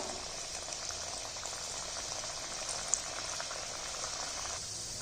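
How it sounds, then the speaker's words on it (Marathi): Pieces of pearl millet flour dough deep-frying in hot oil over a medium flame give a steady, even bubbling hiss that holds at a moderate level throughout, with no voices. "छान लालसर होईपर्यंत आपण मध्यम गॅसवरती तळून घेणार आहोत"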